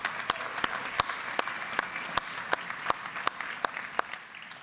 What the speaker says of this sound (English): give yourselves a round of applause for actually making it here